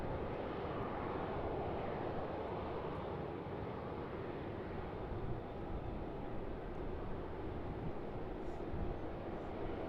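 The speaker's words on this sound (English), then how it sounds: "Qantas A330 lining up 34 left." Qantas Airbus A330 airliner lining up on runway 34 left at Sydney Airport, a continuous broad engine roar, steady and moderately distant, with no talk.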